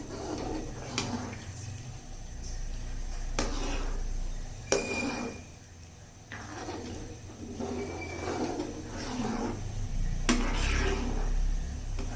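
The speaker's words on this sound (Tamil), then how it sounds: "இது இப்ப நல்லா நம்ம கலந்து விடலாம்" Spoon scraping and clinking against a pan while a tomato pickle mixture with added chili powder is stirred, several distinct knocks spaced irregularly over steady low kitchen background, fairly close.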